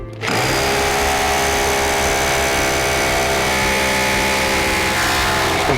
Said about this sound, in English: Next, start drilling.